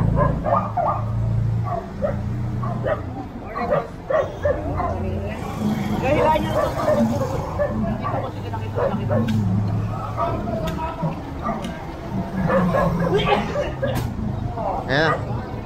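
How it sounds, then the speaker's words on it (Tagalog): A dog on a city sidewalk barks and yips in short bursts, with whimpers in between. People talk over it throughout, and traffic rumbles faintly behind. "Aso, kanino to?"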